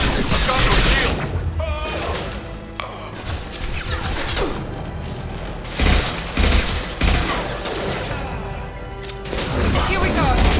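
Sustained gunfire in the Mass Effect 2 video game, with dense overlapping shots and impacts filling the whole stretch and swelling loudest near the start and end, mixed with game voices.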